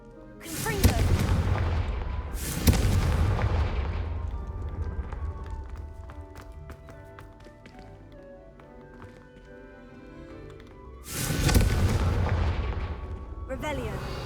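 Heavy fiery explosions from spellcasting in Hogwarts Legacy, two booming blasts early and another later, each with a rumbling tail, over game music and ambient effects in between.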